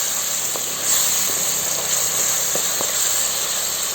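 Ginger garlic paste sautéing in hot oil for a Kongu-style chicken curry, giving a steady loud sizzling hiss throughout, broken by a few faint clicks and taps.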